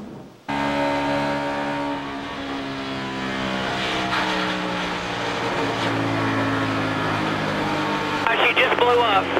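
Race car engine heard from an onboard camera, a loud, steady roaring drone with shifting tones throughout, and faint radio-like voice chatter mixed in near the end.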